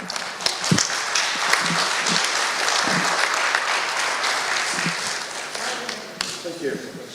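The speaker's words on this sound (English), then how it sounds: "Can we have a round of applause, please?" At a dive technology summit, an audience claps for a captain, a steady wash of applause with some nearby louder individual claps and faint voices underneath, easing off toward the end.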